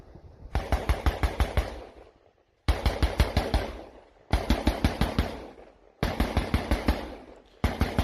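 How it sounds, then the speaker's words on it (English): Bursts of automatic cannon fire from two BTR-82 armoured vehicles, four rapid volleys of about eight heavy rounds each, separated by short gaps, loud and booming with no voices over them. "And they continue to fire the guns."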